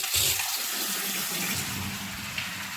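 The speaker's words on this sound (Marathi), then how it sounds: "तर चला आधी प्यायचं पाणी भरून घेते" Water runs from a kitchen tap into a container being filled with drinking water, a steady close splashing rush that holds for a few seconds with no talk.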